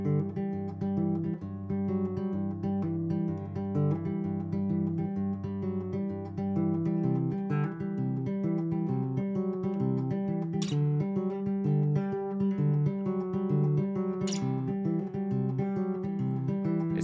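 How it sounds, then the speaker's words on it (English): A nylon-string guitar plays a simple finger-picked I-IV-V progression in G, with soft, steady arpeggiated notes that ring over sustained bass, quiet and close, and no voices. "simple finger-picked exercises on nylon string guitar are the best way to impress anybody"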